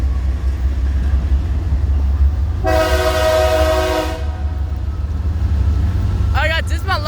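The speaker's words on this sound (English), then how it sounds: "There goes Atlantic Coastline, one honking at 24 Blackburn Boulevard number 2." An Atlantic Coast Line heritage locomotive sounds a loud, steady horn blast lasting about a second and a half, over constant low rumble of the passing train, with someone speaking briefly near the end.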